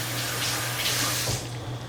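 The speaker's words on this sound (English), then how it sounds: "Let me wash my hands." Hands are washed under a running kitchen tap, with a steady close rush of water that splashes and shifts briefly as the hands move through the stream, heard alone without talk.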